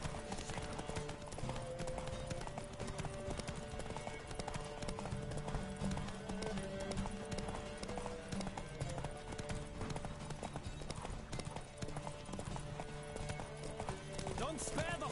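Horse hooves gallop in a steady clip-clop rhythm through a PS4 video game horse race, loud and continuous beneath game music and a speaking voice.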